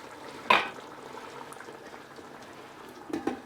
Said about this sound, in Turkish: Şöyle orta ateşte kaynamaya devam edecek.